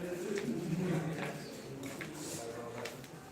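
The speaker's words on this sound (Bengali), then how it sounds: "এখানে আবার হচ্ছে পায়রা বসে আছে সাইডে" Pigeons coo softly at Nashipur Rajbari, a palace in Murshidabad, as a few low, rounded calls rise mostly in the first second over steady outdoor background noise.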